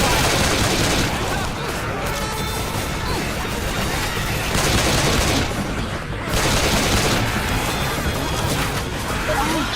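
Rapid gunfire fills a shooter video game, with dense continuous bursts and crashing impacts sounding close and loud throughout, barely easing, and voices mixed in underneath.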